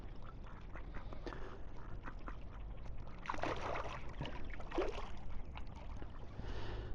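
Ducks quack repeatedly outdoors at the Larford Lakes fishery in England, with bursts of louder calls clustering midway, over steady water and wind background.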